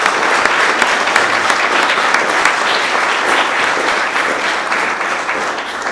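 Steady, dense applause from an audience welcoming the keynote speaker at a holiday party event, sustained and evenly loud throughout with no pauses.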